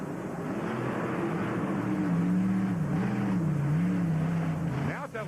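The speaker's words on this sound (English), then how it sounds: "Now it sounds like the motor's locked down, Kevin." A monster truck engine during a freestyle run at a Houston show, a droning, wavering roar with pitch rising and falling as the motor labors, steady and fairly distant throughout.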